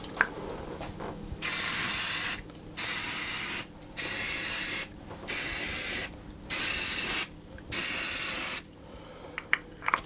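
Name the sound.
spraying oil on dough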